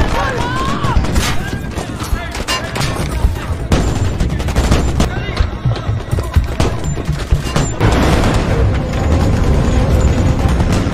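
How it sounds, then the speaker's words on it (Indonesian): Heavy gunfire from troops advancing while shooting in a rescue battle, dense overlapping bursts and booming shots close and loud throughout, with voices speaking over the fighting. "pasukan cepat tanggap yang tersisa pun semuanya terlihat bergerak maju, sembari melepaskan tembakan"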